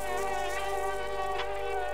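Steady, whining mosquito-like insect buzz from the game Limbo, a dense high drone holding continuously and fairly loud without any pause.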